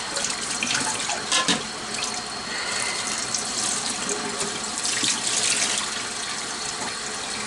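Water runs steadily from a tap into a sink for a rinse, a continuous close hiss with a couple of brief splashy surges where something passes under the stream.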